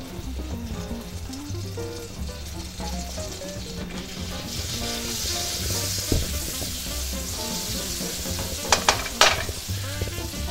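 Two pats of butter sizzling and frying in a Teflon skillet, a steady crackle under a low musical bed, with a few sharper clinks of a utensil near the end.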